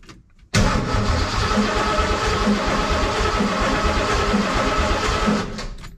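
A 347 stroker engine in a Ford F150 pickup cranks over and catches at once, then holds a loud, steady, rumbling idle close by for several seconds before easing slightly at the end.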